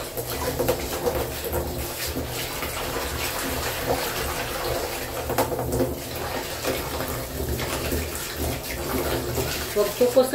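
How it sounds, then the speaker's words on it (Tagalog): Running water rinses pre-printed cross stitch fabric in a steady, close gush that splashes and sloshes throughout, with faint bird calls in the background. "Banlaw na tayo."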